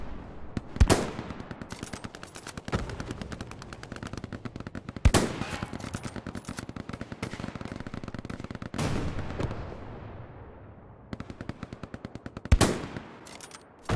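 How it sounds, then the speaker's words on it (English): Rifle gunfire in the World War II shooter Hell Let Loose, with loud single shots at irregular intervals rising over a constant rattle of distant battlefield fire and crackling ambience. "I shot a guy, and the second I pulled the trigger"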